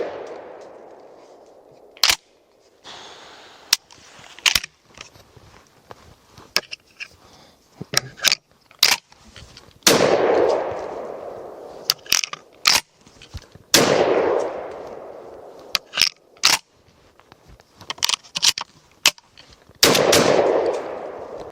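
A MAC-1014 Benelli-clone semi-auto shotgun fires a series of loud, sharp outdoor shots spaced a few seconds apart, some in quick pairs, each blast leaving a brief fading echo, with no talking.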